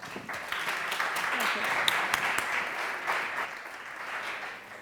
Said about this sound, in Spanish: Vamos a darles un aplauso conjunto.